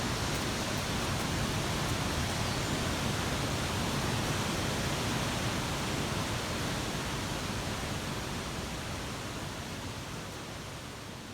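A waterfall inside a cave in northern Scotland, swollen after heavy rainfall, roars as a dense, steady wash of noise that is loud and unbroken throughout, easing only slightly toward the end.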